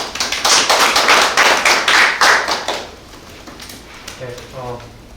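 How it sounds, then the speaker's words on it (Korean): Audience applause welcoming a speaker at a policy debate forum: a dense burst of clapping for about three seconds, then it dies away into quiet room sound with a faint voice near the end. "박수로 환영해 주시죠."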